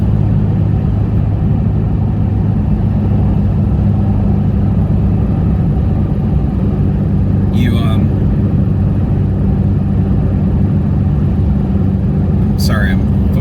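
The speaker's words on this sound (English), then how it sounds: "I'm focused on the driving because I got some guy who's angrily riding my tail" Steady low rumble of a car driving on a road, heard from inside the cabin as continuous engine and road noise, with a couple of brief faint higher sounds passing; no one talks during it.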